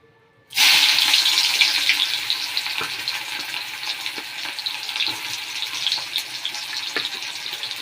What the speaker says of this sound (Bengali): এবার পেঁয়াজটা একটু ভাজা হোক